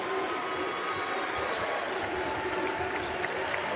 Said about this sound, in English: Louisville fans in red across the way, on their feet, clapping